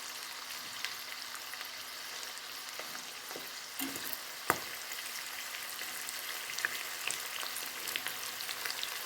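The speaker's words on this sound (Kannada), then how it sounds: "ಇವಾಗ ನಾನು ಇದಕ್ಕೆ ಕರಿಬೇವನ್ನು ಹಾಕ್ತಾಯಿದ್ದೇನೆ" Curry leaves crackle and sizzle as they drop into hot oil for a North Karnataka garlic puffed-rice snack, a faint steady frying hiss with a few sharp pops and spits scattered throughout.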